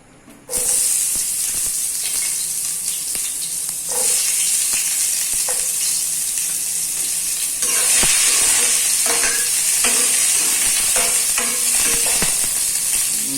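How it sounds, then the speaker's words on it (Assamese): Loud, steady sizzling of onions and tomatoes frying in hot oil, a constant bright hiss with occasional scraping stirs, close by and uninterrupted by speech. "আমাৰ তেলটো গৰম হৈছে, আমি এতিয়া এইখিনি ভাজি লওঁ, পিঁয়াজ আৰু বিলাহীখিনি।"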